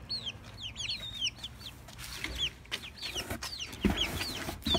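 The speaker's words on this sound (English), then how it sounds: "There you go, baby chicken." A baby chicken peeps and clucks in quick, high, repeated chirps close by, joined by other fowl and some rustling handling noise.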